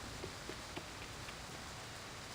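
Steady rain in the game Reverse: 1999 hisses as a soft, continuous wash, with faint scattered drops tapping through it at a low, even level.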